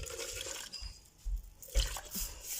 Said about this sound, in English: I'm not going to add too much boiling water